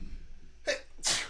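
A single sharp sneeze, close and clear, preceded by a short intake of breath in a quiet indoor room during a podcast conversation.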